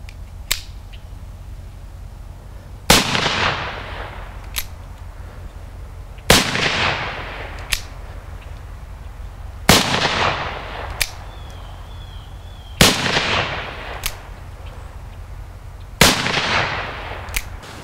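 Five loud, sharp gunshots from an Uberti 1851 Navy black powder revolver with a 5-inch barrel, fired outdoors at irregular intervals of about three seconds. Each report booms and then decays, with fainter snaps between them.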